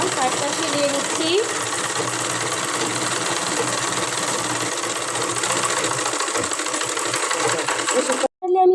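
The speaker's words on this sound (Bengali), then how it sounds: "এই যে আমি এখন সাইডটা সিলিয়ে নিচ্ছি।" Sewing machine runs steadily and loudly, stitching the side seam of a small child's kurta, with a continuous rapid mechanical whir that stops abruptly near the end.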